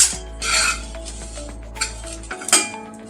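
Coriander seeds, cumin, fennel and four dried red chillies dry-roast in a hot frying pan over a low gas flame, giving rough scraping and rattling bursts as the spices are stirred, loudest near the start and again toward the end.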